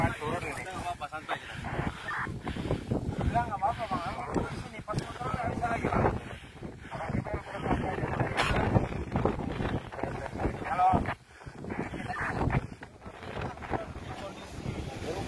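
Strong wind buffets the microphone on the summit of Mount Gletaron above Banda Aceh, a loud, continuous gusting roar with surges and a brief lull, while people talk over it.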